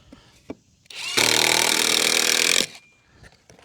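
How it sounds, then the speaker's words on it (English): Power drill boring pilot holes into wood for a barn-house jig, one loud continuous whine of about a second and a half, close up, with faint handling noises before and after. "Of course, I should drill pilot holes."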